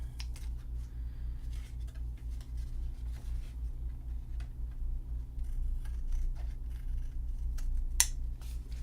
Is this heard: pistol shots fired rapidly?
no